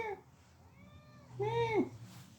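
A hungry house cat meows twice, a thin drawn-out cry followed by a louder, longer, rising-and-falling meow close to the listener, with quiet room tone between them.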